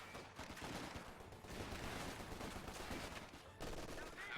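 Sustained Bren machine gun fire in Company of Heroes 2, a dense, continuous rattle of automatic bursts with overlapping battle noise, loud throughout with a brief dip near the end.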